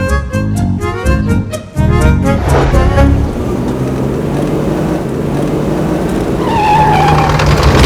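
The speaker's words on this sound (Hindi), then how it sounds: "क्या हुआ मैडम, गाड़ी काहे रोकी?" A car brakes hard and skids to a stop on a road, a loud tyre screech with engine noise, followed by the idling car and a rising squeal later, with no talk.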